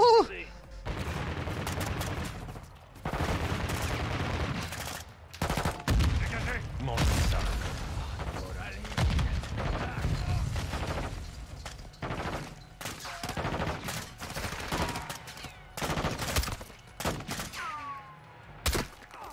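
Dense, near bursts of turret gunfire from the Call of Duty Modern Warfare 2 campaign pound almost continuously, with rapid volleys, booms and a few brief gaps, and a voice occasionally breaks in over the shooting.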